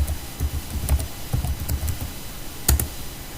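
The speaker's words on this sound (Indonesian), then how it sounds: "Lalu ketikkan perintah ipconfig." Keys tapped on a computer keyboard to enter the ipconfig command in a command prompt, a run of irregular clicks with a couple of sharper strikes, moderately close and alone.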